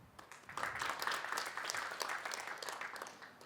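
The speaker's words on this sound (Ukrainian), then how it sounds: "Ці сумні оплески." A small comedy-show audience of couples gives sparse, half-hearted applause, a quiet, thin patter of a few hands clapping at a distance.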